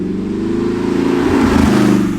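An Audi R8 in poor condition drives along with a loud, close engine drone that swells slightly as it pulls, steady throughout the short stretch.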